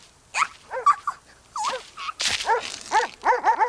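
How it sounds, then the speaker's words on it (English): A cartoon dog barks insistently in a 1993 animated Spirou episode: a string of sharp barks and yips with a whimpering tone, loud and close, coming faster and in rapid succession toward the end. "would you please call off your dog?"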